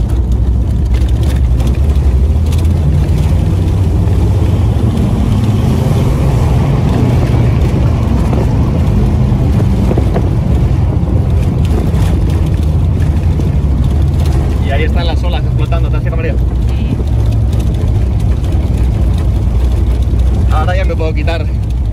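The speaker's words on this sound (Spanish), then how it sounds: "la respuesta de motor con un G60 con este kilometraje, pues la verdad que va fino fino" Low engine drone from a VW Golf Cabrio with a supercharged G60 engine and Rieger GTO tuning, driving at steady speed along a coastal city road. The hum runs continuous and fairly loud throughout, with a few brief higher chirps near the end.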